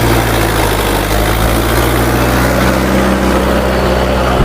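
A Kubota MU4501 tractor engine runs at a steady, loud idle close by, a continuous deep throbbing rumble with constant vibration and no talk.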